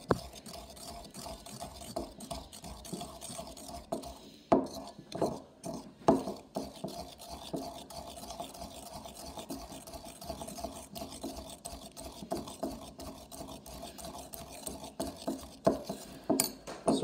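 Green slime mixture being stirred in a bowl, a steady run of soft scraping and sloshing strokes through the thick liquid, fairly quiet and close, with a few sharper clinks of the utensil against the bowl.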